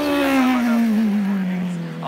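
A racing sidecar engine roars at the start of an ice speedway world championship heat. The rig is a prototype converted to the right side. Its loud, steady drone drops gradually in pitch and fills the whole stretch.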